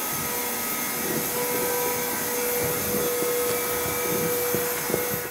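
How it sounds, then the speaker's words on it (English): A vacuum cleaner drones steadily at close range while clearing debris after an engineered hardwood flooring install, a constant whine with faint scraping and knocks as the nozzle moves over the floor. "Time to get out the vacuum"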